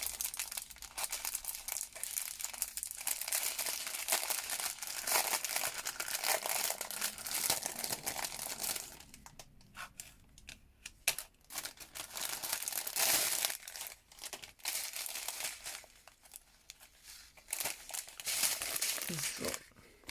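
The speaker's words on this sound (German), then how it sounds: "Wenn ich denn die Tüte aufkriege." A plastic bag is worked open by hand, producing loud, close crinkling and rustling that comes in irregular bursts with brief lulls, continuing for about twenty seconds.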